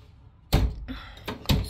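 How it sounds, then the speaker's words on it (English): A bathroom door in a 2007 Jayco Eagle 288RLS RV is pushed shut, giving a close thunk followed by two more short knocks of the latch and frame settling. "Close the door."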